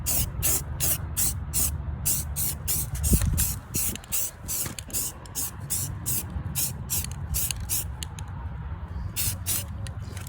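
Spray gun laying down a tan camouflage coat on a gun in bursts, roughly twenty short sharp hisses in a steady rhythm, close and loud over a low background rumble, with no talking.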